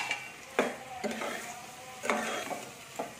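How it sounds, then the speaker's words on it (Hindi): Ground chili, turmeric, coriander and salt sizzling in a hot pan, with a steady frying hiss and several sharp stirring scrapes at irregular intervals, close by. "इसको अच्छे से भून लेंगे।"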